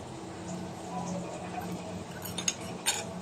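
A spice mixture for Mandi chicken stirred in a pot, with quiet scraping under a low background hum and a couple of sharp metallic clinks of the utensil near the end.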